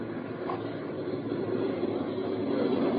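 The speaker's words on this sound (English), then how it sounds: "As the plane set down and taxied in," A radio drama effect of an airplane setting down and taxiing at the Kansas City terminal: a steady, muffled engine roar that swells slightly toward the end.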